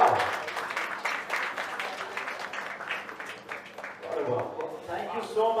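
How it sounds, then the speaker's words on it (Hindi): A crowd claps at a production company launch event, a steady, moderately faint wash of applause running beneath an announcer's voice throughout. "जोरदार तालियां"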